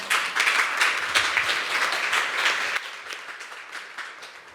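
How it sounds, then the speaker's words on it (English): A round-table audience gives Christina a dense, steady round of applause that thins toward the end. "So another round of applause, I think, for Christina"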